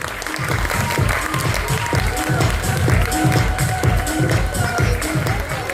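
A crowd claps in a loose, steady rhythm with thumping low beats underneath, a busy and continuous sound with voices mixed in.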